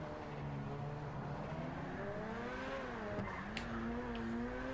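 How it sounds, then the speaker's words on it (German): A fast car in a driving video game revs and accelerates, its engine tone climbing and shifting through gears in a continuous drone, with a faint squeal near the end. "Das Auto ist viel zu schnell."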